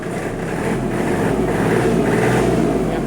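A used Kubota L1-195 diesel tractor engine rumbles steadily and fairly softly, its pitch rising slightly as the throttle opens, loud and close throughout.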